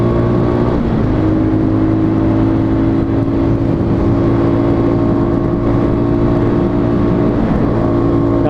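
A Fantic Caballero Flat Track motorcycle engine at full throttle on the road, a loud, sustained droning roar with steady pitch and heavy wind rush throughout.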